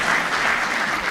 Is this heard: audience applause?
yes